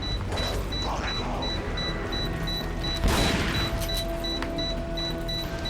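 Gunfire rings out in Resident Evil 4's Separate Ways mode: one sharp burst of shots near the middle, set against steady game ambience and a repeating faint electronic beep, with no speech.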